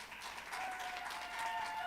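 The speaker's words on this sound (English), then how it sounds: "So let's give a big round of applause for the first ever Jacket Points" An awards-night audience breaks into steady applause, a dense wash of many hands clapping that holds level throughout.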